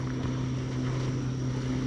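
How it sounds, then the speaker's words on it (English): A jet ski runs on open water during a fishing trip, its engine droning steadily and fairly loud throughout under wind noise. "here comes a jet ski to mess me up"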